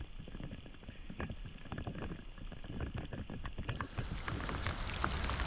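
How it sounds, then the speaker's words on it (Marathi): Gentle, windless rain falling on deep water during a prawn-fishing outing, a steady soft patter and hiss that continues evenly throughout without any talk. "पाऊस एकदम शांत पडतंय"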